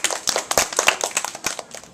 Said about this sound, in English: Give Captain Gymnastics a round of applause.